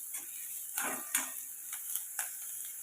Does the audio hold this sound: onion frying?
yes